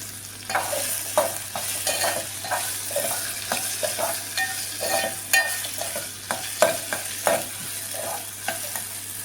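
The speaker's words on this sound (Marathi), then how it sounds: "इकडे आहे आता फोडणी घालून घेते पटकन." Tempering (phodni) being made for cooking alongside chopped onion, tomato, chilli and coriander, with continuous sizzling and frying under repeated sharp stirring clinks of a spoon against the pan.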